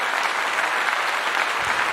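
A steady, dense burst of applause from a crowd, close and even throughout with no talking over it.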